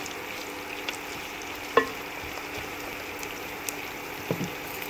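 A spoon stirs prawn curry with curry leaves and mint in a pan, giving a soft, steady frying hiss with a few light scrapes and clicks, close but quiet, with no talking.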